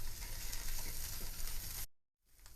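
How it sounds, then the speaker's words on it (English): Ginger garlic paste sautéing with onions in a pan for a South Indian eggplant curry, giving a bright, dense sizzle that fills the clip, then cuts off into brief silence before resuming faintly. "now we're going to add the ginger garlic paste. And we're going to saute it"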